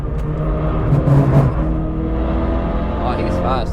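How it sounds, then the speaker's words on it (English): A BMW E36 race car accelerates on the Nürburgring, its steady engine drone swelling and rising in pitch, with talking over the noise. "This E36 behind me really wants to go."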